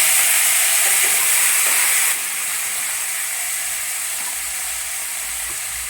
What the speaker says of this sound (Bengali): ওই তেল গরম হয়ে গেছে, এবার ওই তেলে আমি আলুগুলো ভেজে